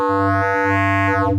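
In Xfer Serum, a synth tone runs through the sine fold distortion effect, giving a loud, steady buzzy tone dense with harmonics that brighten and shift over about a second and a half.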